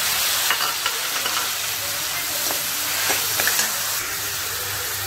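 Small chopped onions sauté in a pan for egg burji, with a constant close sizzle and hiss broken by light scraping clicks from stirring.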